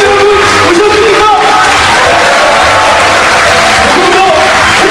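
Party members at the founding convention of the Progressive Justice Party send up a loud, continuous roar of cheering and shouting, a dense crowd sound sustained throughout without a break.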